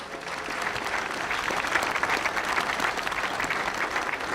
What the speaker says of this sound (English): Let's have a big round of applause for the Ames Choral Society